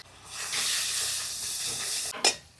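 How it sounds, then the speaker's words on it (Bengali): Panch phoron, dried red chili and bay leaf hit hot oil with a loud, sustained hiss and sizzle that swells quickly, holds steady, then fades briefly before a final sharp burst. "ফোড়নে দেবো পাঁচ ফোড়ন শুকনো লঙ্কা তেজপাতা"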